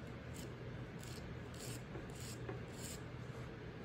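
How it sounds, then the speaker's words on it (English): A nail file rasping across natural fingernails during a manicure, filing from the outer edge toward the center: quiet, steady back-and-forth strokes in an even rhythm, close and alone with no talking. "When I file, I'm going from the outer edge in towards the center."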